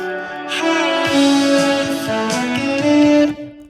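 Sustained string ensemble arrangement built in Logic Pro X, all notes held long with smooth legato chords changing every second or so, a full, steady bed of bowed tone with no spoken voices.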